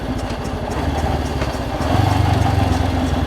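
A Honda CL77 Scrambler motorcycle engine idles close by with a steady, throbbing low rumble that swells slightly louder partway through, with no talking.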